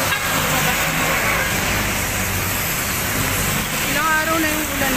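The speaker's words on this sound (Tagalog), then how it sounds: "sobrang lakas ng ulan," Heavy rain pours steadily during a storm thought to be the new typhoon Dante, a dense broadband hiss that stays loud throughout, with a passing car engine rumbling low underneath.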